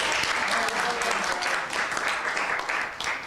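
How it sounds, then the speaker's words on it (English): Audience applause for a volunteer at an event, a dense, steady crowd clapping that fills the whole stretch at an even level. "please give him an applause as well"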